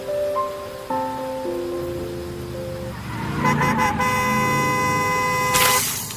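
Car horns honk in several long overlapping blasts on a rainy street, growing louder and denser over steady rain and traffic noise, with one sharp high horn near the end.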